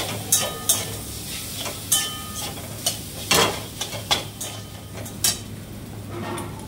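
Boiled potato fries in a pan with a continuous sizzle, punctuated by a series of sharp scrapes and clinks as a utensil stirs it against the metal, close and fairly loud.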